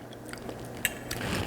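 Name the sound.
biting crunchy sage on mashed potatoes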